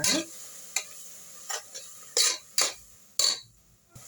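Tomato and onion masala frying in a pressure cooker for lunchbox rice: a quiet background sizzle broken by repeated bursts of scraping and stirring, some near and sharp, with a light clink of metal, no voices.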